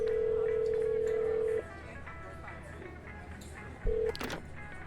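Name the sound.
phone call being traced in Shadows of Doubt video game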